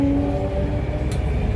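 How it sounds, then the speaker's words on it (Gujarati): A Delhi Metro train running between Red Fort and Kashmere Gate, with a loud steady rumble and drone inside the carriage and a brief high squeal partway through. "અમે મેટ્રોમાં અત્યારે જઈએ છીએ લાલ કિલ્લાથી નવી દિલ્હી."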